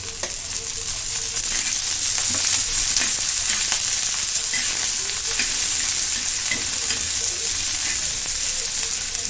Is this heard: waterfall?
no